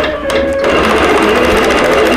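An embroidery machine stitches a tree skirt, its steady mechanical whir starting up and then running loud and continuous on its own, with no voices.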